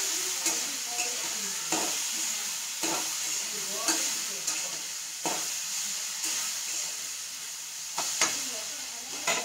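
Raw banana slices frying in hot oil give a steady close sizzle, with a utensil turning them every second or so in soft scraping strokes.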